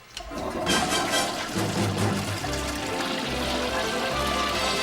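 A toilet flushes with a loud, close, continuous rush of water that starts abruptly and keeps surging and gurgling for several seconds, with no talking over it.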